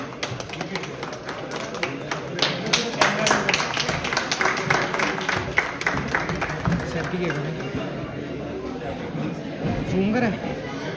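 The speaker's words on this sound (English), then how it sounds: "I request the audience to please be generous with applause" An audience at a university's international conference valedictory session applauds the organizers with sustained crisp clapping for about eleven seconds, while people keep talking over it.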